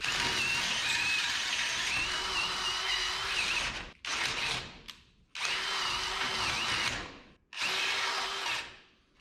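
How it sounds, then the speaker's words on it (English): Power drill boring out an old rivet to 3/8 inch on a 1976 GMC short bed truck during custom fabrication, heard as three loud, close, sustained whining bursts separated by brief pauses. "We're just gonna drill that out to 3/8"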